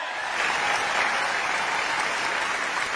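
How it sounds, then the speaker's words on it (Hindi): Audience at a poetry mushaira in Dubai breaks into loud, dense applause, a steady wall of clapping that holds for the full clip with no voices on top. "भाइयों और बहनों, ताली बजनी चाहिए कि नहीं बजनी चाहिए?"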